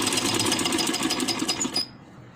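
A sewing machine stitches a round seam on a handmade baby dress, a rapid rhythmic whirring close up that runs for under two seconds and then stops abruptly.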